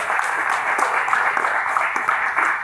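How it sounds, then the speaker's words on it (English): Steady applause from an audience at a real estate investor event, honoring the vendors, a continuous fairly loud wash of clapping. "let's give our vendors a big round of applause"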